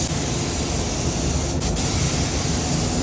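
Primer sprays onto a car bonnet scoop in a loud, steady hiss that runs without a break, briefly dipping once midway, with no voices.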